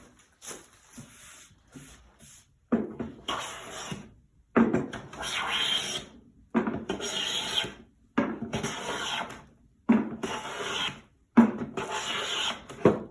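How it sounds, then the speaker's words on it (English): Blum hand plane taking shavings from a wooden board: five or six separate rasping strokes, each about a second long, close and fairly loud, with brief pauses between them and no talking. "I'm not used to planing with my hand up here, but I'm trying to do that so you can see the shavings."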